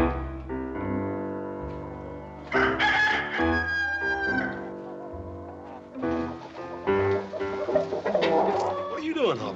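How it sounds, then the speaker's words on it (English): Chickens cluck and squawk loudly and close by while a rooster crows in a Wild West setting. The birds keep calling over several seconds, with voices mixed among the frantic clucking. "Here's the way to catch chicken."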